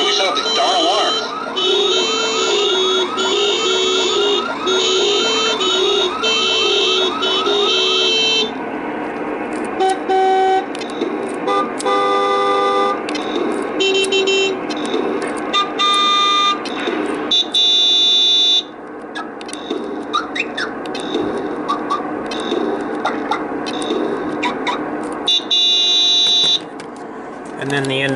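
A loud electronic alarm beeps and buzzes in repeating patterns that change tone over time, sounding steadily and close.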